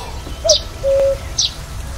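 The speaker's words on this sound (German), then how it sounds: "Ein Kuckuck. Wie klingt er doch?" A cuckoo calls in the fantasy adventure game The Night of the Rabbit: two short bird chirps bracket a sustained whistled tone, fairly clear against a quiet ambient background.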